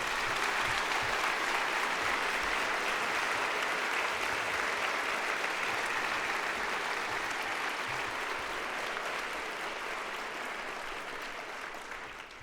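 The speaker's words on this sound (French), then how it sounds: "Applaudissons chaleureusement nos invités." Sustained, dense applause from a large audience greeting guests at a university management school graduation ceremony, loud and steady throughout before tapering slightly at the end.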